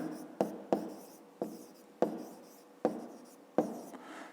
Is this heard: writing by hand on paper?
yes